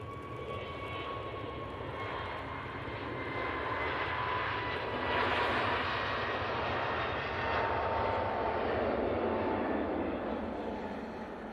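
An Airbus A321neo airliner landing at Manchester Airport sends up a sustained jet roar with high whining tones that swells toward the middle and then eases off, heard alone without talk.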